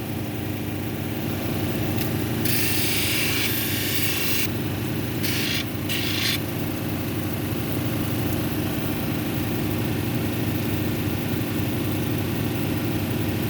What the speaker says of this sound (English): when you're grinding, especially when you get down to your line, do not stop